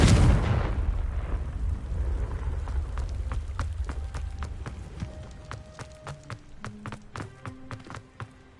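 A Confringo blasting spell in the video game Hogwarts Legacy, one loud fiery explosion at the start that decays into crackling debris and scattered sharp clinks and ringing tones.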